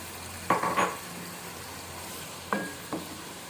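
Tomatoes go into a pan for aloo gobhi and fry with a soft sizzle, marked by two short bursts of stirring or scraping against quiet background; no voices.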